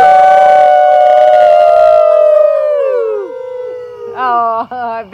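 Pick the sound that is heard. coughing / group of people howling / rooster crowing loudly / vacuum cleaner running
group of people howling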